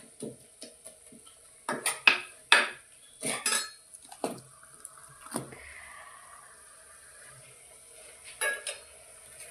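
Ground sardine powder scraped and stirred in a hot pan, with a steady rhythm of metal utensil clinks and scrapes and a faint sizzle, loud near bursts spaced through the stretch.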